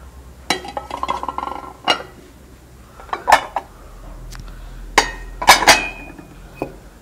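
Ceramic plates clink and knock together in scattered sharp bursts, close by, with quiet pauses between the handling sounds.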